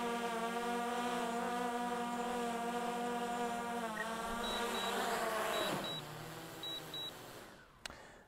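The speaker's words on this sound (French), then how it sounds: "ça permet toujours, la table Décathlon, de faire décoller son drone" A drone's high whine hums steadily close by, lifting off from a Decathlon camping table, then drops in pitch as it sets down for a tricky landing, ending with a short clack.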